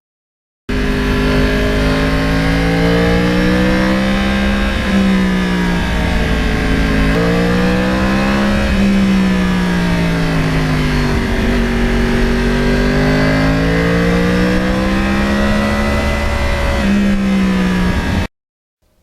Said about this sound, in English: And the stock exhaust, actually, I'm getting used to how nice it sounds